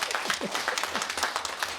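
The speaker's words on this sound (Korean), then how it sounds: "박수 한번 부탁드립니다" Brief applause from an audience at a Korean community talk event, a moderate patter of clapping with a few sharper claps, fairly faint with a voice briefly heard.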